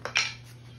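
A spoon dropped on a kitchen floor gives two quick bright metallic clinks that ring briefly and fade over a steady low hum.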